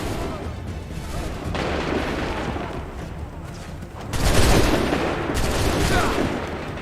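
Musket volley fire in the Assassin's Creed III video game, rolling massed shots and booms that swell into a louder burst partway through, with shouted commands heard among the gunfire.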